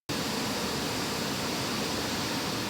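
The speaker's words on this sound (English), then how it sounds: "I'm running some full range pink noise through that thing at 85 decibels from 18 inches away" Full range pink noise played through a Micca RB42 bookshelf speaker at 85 decibels from 18 inches, a steady, dense broadband hiss that starts abruptly and holds constant throughout.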